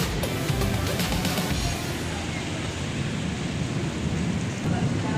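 Heavy rain pours steadily in Santa Cruz, Manila, with low thunder rumbling early on, a dense, loud, unbroken roar of water close by.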